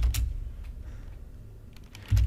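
Computer keyboard typing comes in a few short bursts of clicks, close but soft, over a quiet room hum with a louder thump at the end.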